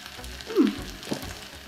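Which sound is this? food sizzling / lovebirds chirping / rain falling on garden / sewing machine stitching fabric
food sizzling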